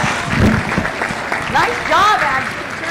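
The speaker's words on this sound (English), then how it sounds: "Let's give her a round of applause as she heads out the arena." Audience applause rises in a livestock show arena at a county fair junior livestock showcase, brief and moderately loud, mixed with an announcer's voice and other arena sounds.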